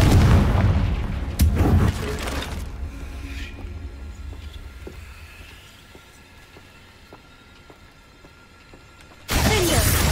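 Confringo blasting spell explosions in the Hogwarts Legacy video game: loud booming, crackling bursts open the scene, then a quieter rumbling stretch with scattered faint impacts, before another loud burst at the end.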